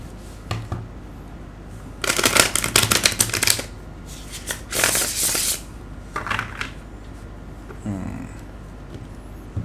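Tarot cards being shuffled by hand in several bursts of riffling and flicking, close and crisp, separated by short pauses in an otherwise quiet room.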